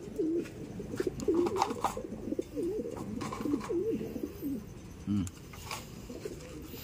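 Pigeons coo softly in repeated low, throaty phrases, with faint background rustling and a brief closer coo near the end.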